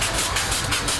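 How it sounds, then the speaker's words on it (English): Big Boy 4014 steam locomotive standing at a stop, giving off a steady broadband hiss of venting steam with a low rumbling mechanical undertone, close and continuous. "you hear all the hydraulics and some of the steam coming out"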